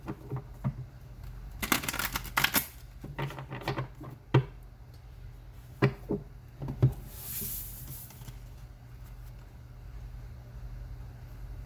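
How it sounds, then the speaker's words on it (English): Crisp riffling and slapping of playing cards being shuffled, several bursts of bright patter close by, with quiet pauses between. "One more shuffle."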